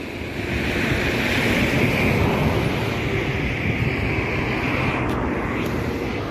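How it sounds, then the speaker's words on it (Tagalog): Strong wind roars steadily and loudly, buffeting the microphone in a constant rushing wash with no letup. "Ang lakas ng hangin, no?"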